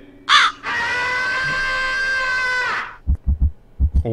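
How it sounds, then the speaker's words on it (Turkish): A crow in the horror game Granny lets out one loud, long, harsh caw. It stands alone and is followed by a few low thuds. "Karga bir bağırdı yani, ben bile korktum."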